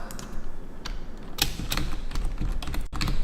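Typing on a computer keyboard, with rapid irregular clicks and occasional louder key strikes heard up close over a steady room hum.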